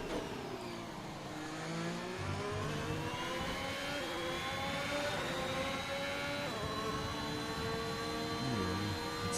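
Formula 1 car engine from the F1 2021 racing game, a sustained loud high-pitched whine that rises steadily through the gears with brief dips at shifts, continuous and close with no talk.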